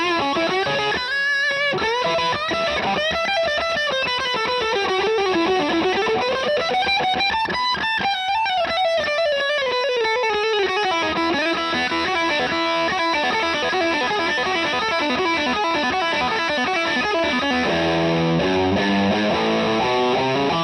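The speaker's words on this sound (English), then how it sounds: "you get the typical sort of amp distortion sound" A Fender Deluxe Players Stratocaster played on its bridge pickup alone through a distorted amp: loud, saturated, sustained notes and gliding melodic lines that continue unbroken throughout, with no talking.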